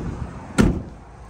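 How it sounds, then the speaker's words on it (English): A single solid thud as one of a van's dual rear doors swings shut, close and brief, with a quiet background before and after. "Coming to the back here, you have your dual opening doors."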